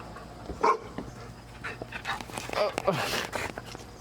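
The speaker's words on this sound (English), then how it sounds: "Always a beautiful feeling when your pup greets you like that." A pet dog whimpers, yips and gives short excited cries while greeting its owner on a hike in the Adirondack High Peaks, close and moderately loud amid rustling.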